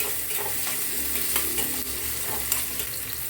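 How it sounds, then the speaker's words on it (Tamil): Onions and tomato stirred in a frying pan for a meat fry, with a steady close sizzle and frying hiss broken by soft scraping stirs, no talking. "இப்போ வெங்காயம் நல்லா வதங்கிருச்சு. நம்ம தக்காளி போட்டுக்கலாம்."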